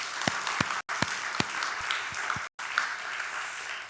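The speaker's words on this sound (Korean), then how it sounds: "격려하는 박수 한 번 더 보내겠습니다" Applause from a church congregation at a Friday prayer meeting, a steady wash of many hands with a few sharper claps standing out and two brief cut-outs.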